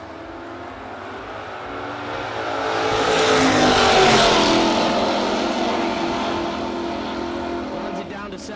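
Dodge Dart and Camaro drag racing cars roar down the strip side by side, the loud engine noise swelling to a peak midway and then fading into the distance. An announcer talks over the engines.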